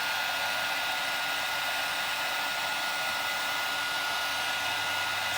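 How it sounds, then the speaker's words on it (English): A heat gun blows steadily while heat embossing a card, a loud, constant broadband whoosh of hot air that holds unchanged throughout, close to the mic with no talk. "Excuse the noise of the heat gun."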